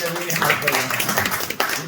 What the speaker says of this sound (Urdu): تالیاں بجا دیں